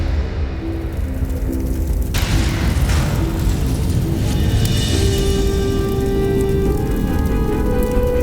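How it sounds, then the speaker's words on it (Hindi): Fire weapons explode in a burning armoury, a loud sustained roar and rumble with a sudden blast near two seconds, crackling and deep booming continuing throughout. "विस्फोट हो जाएगा अग्नि अस्त्रों में।"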